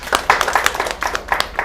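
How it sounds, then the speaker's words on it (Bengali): Students in a school classroom clap together after a correct answer, a quick burst of uneven, overlapping hand claps lasting under two seconds, fairly close and busy throughout. "হাততালি হবে।"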